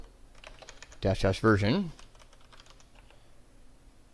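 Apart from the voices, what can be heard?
typing a command on a Mac computer keyboard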